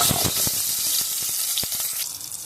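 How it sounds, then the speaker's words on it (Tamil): Around ten small onions sizzle in hot oil in a pan, a steady close crackling hiss broken by several sharp pops and spatters. "ஆயில் சூடான உடனே ஒரு 10 சின்ன வெங்காயம் நான் வந்து வச்சுருக்கேன், அதை போட்டுக்கலாம்."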